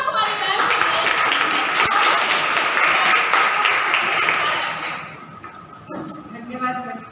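An audience at an anti-ragging workshop claps for a speaker, a sustained, dense round of applause lasting about five seconds before fading, after which a voice begins speaking.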